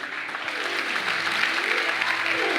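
A congregation at a French-language church sermon claps in sustained, dense applause, loud and even throughout, with no voice standing out.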